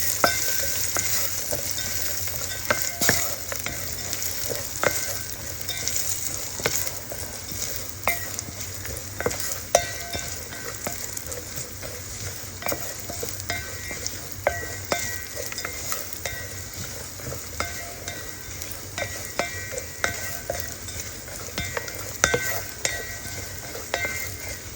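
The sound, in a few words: dry fruits frying in ghee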